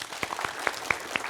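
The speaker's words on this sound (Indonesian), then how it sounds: "Boleh kita berikan tepuk tangan?" Scattered handclaps from an audience at an evening event, greeting sponsors and guests: a few sharp, distinct claps spread thinly across a short moment rather than a full ovation.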